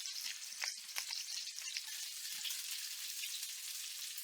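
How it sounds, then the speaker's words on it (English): Leftover onions sautéing in a pan give off a steady, fairly faint sizzle, with a few light clicks and scrapes near the start. "I'm going to make use of these onions that we had left over. I'm going to kind of saute them a little bit."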